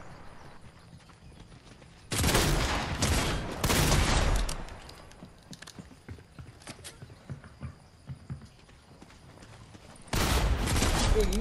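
Bursts of rapid gunfire in the video game Fortnite, with a couple of loud volleys and scattered lighter shots in between, heard up close with no talking.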